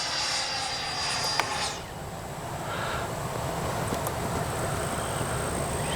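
Freewing 90mm F-22 RC jet flying overhead, its ducted-fan engine making a steady loud roar with a high whine that shifts in pitch as it passes, outdoors and alone.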